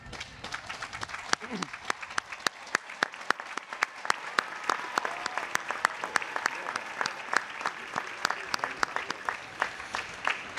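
Scattered applause for faculty standing at a college commencement ceremony, individual claps sharp and fairly close within a thinner, moderately quiet crowd, a voice briefly heard in the room.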